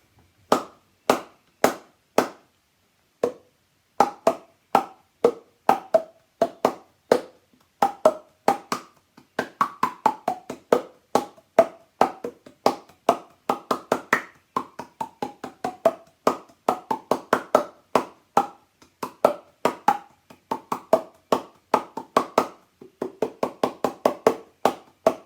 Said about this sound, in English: There you go, the ancient echo clap